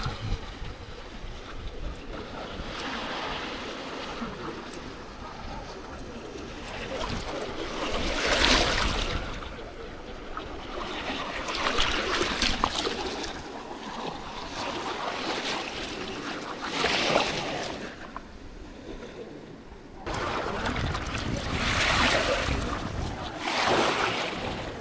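Strong wind and waves at sea heard from a small boat, gusty wind buffeting the microphone over the rushing wash of water, swelling and easing in repeated surges.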